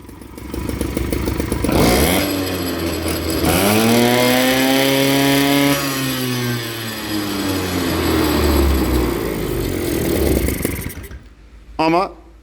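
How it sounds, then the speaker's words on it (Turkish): A Motobecane Mobylette moped's two-stroke engine runs close by during carburetor air-screw adjustment, revving up and down in a loud, buzzy drone before cutting out, followed by a short final blip. "Motorun sesi açık."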